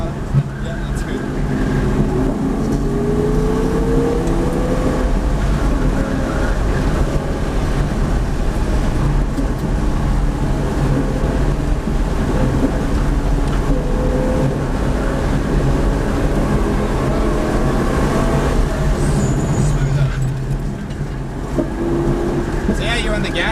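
A V8 Supercar engine drones steadily on track at Norwell Motorplex, loud and close from inside the car, with shifting harmonic pitch as throttle varies and an instructor's voice talking over it.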